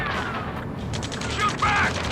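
Scattered gunfire in the Ace Combat 7 game, with UAVs approaching a space elevator, crackles in quick bursts amid explosions and mechanical clatter, under shouted radio chatter.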